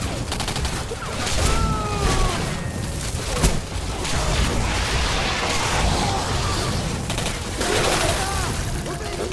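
A barrage of grenades bursting in Singularity amid ongoing gunfire, with heavy booms and sustained chaotic combat noise throughout while a player speaks over it.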